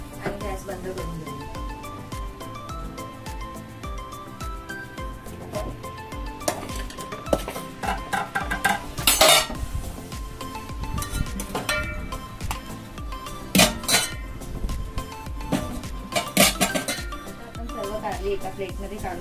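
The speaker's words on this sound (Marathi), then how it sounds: "आता आपण यांना एका प्लेट मध्ये काढून घेऊया आणि गॅस बंद करून घेऊया।" Stuffed bitter gourds are lifted from a pan onto a plate, with repeated metallic clanks and clinks of utensil on cookware, some sharp and loud, under ongoing talk.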